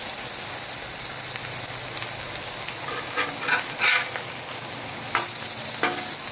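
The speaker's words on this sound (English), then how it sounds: "Bacon's starting to cook real well up here." Bacon sizzling steadily on a Blackstone 17-inch propane griddle, a loud continuous frying hiss with occasional crackles and a few brief scraping stirs, no talking.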